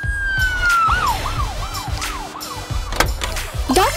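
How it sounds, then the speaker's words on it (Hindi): Ambulance siren wailing in repeated rising-falling sweeps, loud and close in a busy children's role-play city indoors, with a short whoop near the end and background activity beneath. "एम्बुलेंस।"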